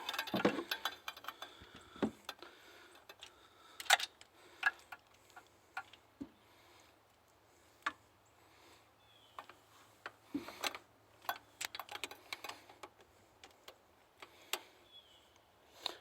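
A 1/2-inch drive ratchet turning a 13mm socket to loosen a bolt on a 1991 Firebird 3.1 V6, heard as scattered sharp clicks and short ratcheting bursts at close range amid quiet pauses.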